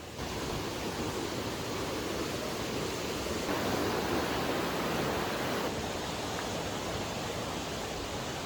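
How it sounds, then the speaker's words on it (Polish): A waterfall in a Honduran jungle park gives a steady, dense rush of falling water that stays constant throughout, with no voices. "I już na wejściu mamy wodospady."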